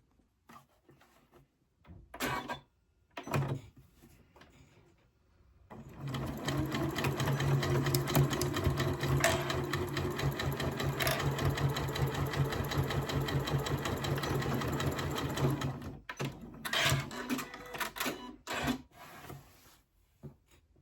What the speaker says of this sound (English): I'm just about to start sewing this bag together